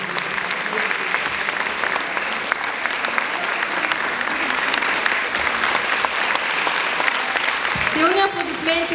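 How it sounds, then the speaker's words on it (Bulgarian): Strong, continuous applause from a crowd at a Christmas celebration after a performance, a loud sustained wash of clapping with a voice rising over it near the end. "Силни аплодисменти за Теодора Николова и Иван Стоянов за това прекрасно изпълнение"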